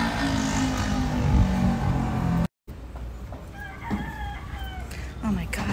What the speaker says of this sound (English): Oh my God, the rooster.